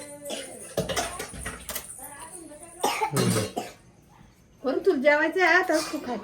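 A child with a bad cough at home gives several short, harsh coughing bursts, close and fairly loud, with people talking between them.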